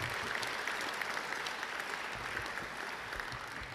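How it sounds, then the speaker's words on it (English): Faint, steady applause from an audience at a college athletics hall of champions ceremony, even and continuous with a few sharper claps standing out. "I think that deserves a round of applause"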